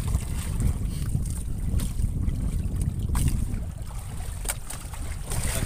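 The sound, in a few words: big waves and wind around a small fishing boat at sea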